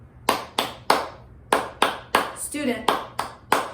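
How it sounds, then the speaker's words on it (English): Sharp hand claps in a steady 4/4 rhythm for a children's tap dance class, about ten crisp claps spaced evenly, close and loud, with a brief spoken word breaking in midway. "So plan to start clapping immediately after I clap."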